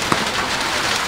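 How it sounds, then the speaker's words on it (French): Steady rain falls in a dense, even hiss of drops on a surface, continuous and fairly close, with one brief louder spatter near the start and no voices. "comme aujourd'hui il est en train de pleuvoir"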